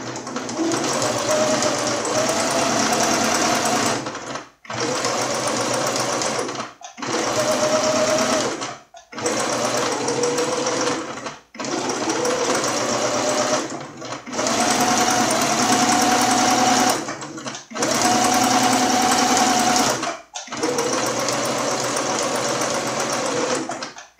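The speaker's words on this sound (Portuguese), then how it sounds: "Pode costurar bem devagarzinho, para a costura sair exatamente no lugar." A sewing machine stitches a baby's necessaire in a series of steady runs, each a few seconds long and separated by short pauses. The motor hum is loud and close, and no voice speaks.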